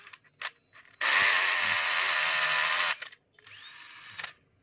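A DeWalt DCD710 10.8 V cordless drill whirs steadily with its chuck spinning for about two seconds, loud and close, framed by brief clicks and handling noises before and after.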